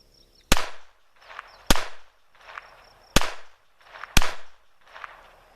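A Taurus TX22 .22 pistol fires four sharp, loud cracks roughly a second apart outdoors, each shot followed by a short ringing echo and smaller trailing bursts.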